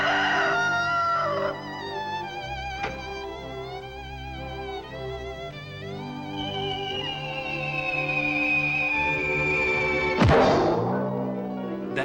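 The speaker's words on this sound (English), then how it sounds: "you hear a rooster crow in the morning" A rooster crows one long, drawn-out call, loud and close, ending with a sudden thump.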